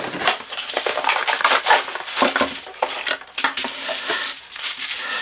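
Unboxing a Parkside PALS 100 A1 LED work light, with close, busy rustling and crinkling of packaging and cardboard, scraping and handling noises in irregular bursts.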